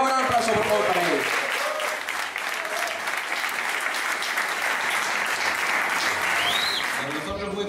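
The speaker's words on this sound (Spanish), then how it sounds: "Un buen aplauso, por favor, para ellos." Dense, sustained applause at a workers' union event honours several comrades. Many hands clap loudly and continuously in a close room, with a voice briefly audible at the start.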